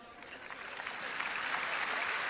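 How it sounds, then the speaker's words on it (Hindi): Audience clapping at a Hindi poetry recital by Surendra Dubey: a steady, dense wash of many hands, fairly faint and slightly swelling in strength, with little or no talk over it. "मैं आपको एक बार बोलूंगा ताली बजाओ"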